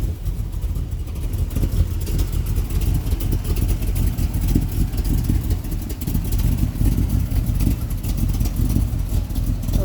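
A cammed V8 engine in a 1970 Chevrolet El Camino idles with a loud, lumpy, pulsing rumble, with low throbbing surges and occasional blips of throttle, close to the car throughout.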